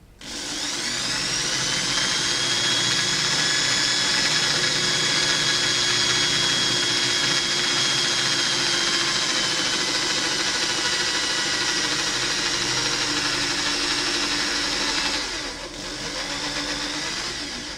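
A 3.3 mm drill bit bores into a Delrin spear gun head, running as a loud, continuous high-pitched whine that holds steady for a long stretch, dips briefly near the end, then resumes.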